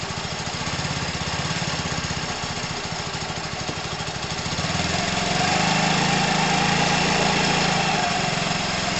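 Small engine running steadily at idle with a continuous mechanical drone and rapid pulsing, getting slightly louder and rougher partway through, with no voices.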